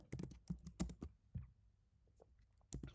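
Python code typed on a computer keyboard, a quick uneven burst of close key clicks, a pause with a few soft taps, then another short flurry, quiet and alone.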